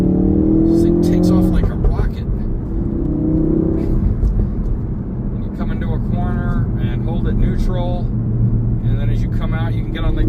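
A 2017 Ford Focus RS accelerating hard, its engine note rising and holding loud and steady throughout, with someone talking over the engine the whole time.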